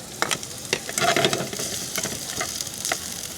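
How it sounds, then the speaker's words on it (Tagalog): Garlic, onion and ginger sautéing in a pan at a countryside campsite, a close, continuous sizzle broken by repeated scraping and stirring strokes, with no talk over it. "magigisa naman tayo ng bawang sibuyas at luya"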